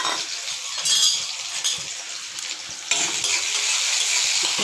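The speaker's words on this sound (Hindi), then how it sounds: "अब हम प्याज को दे देते हैं।" Onions dropped into hot oil in a kadai, a loud steady sizzle and frying hiss that surges when they go in and continues without talk, with occasional clinks of utensils.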